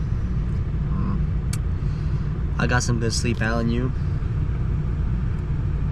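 A car engine running while warming up on a cold early morning during a New Mexico mule deer hunt, a steady low rumble heard from inside the vehicle, with a person speaking briefly over it.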